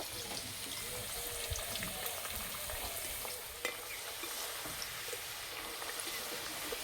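Potato slices frying in hot oil after a salt-water soak, a steady dense sizzle with crackling bubbles and faint stirring, continuous and close throughout.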